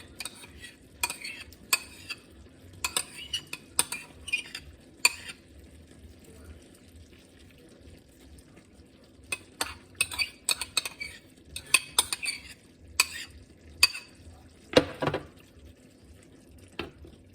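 A spoon scrapes and clinks against a pan while stirring Worcestershire sauce and tomato paste into shepherd's pie filling, in irregular clusters over a low sizzle, close with a quiet gap midway.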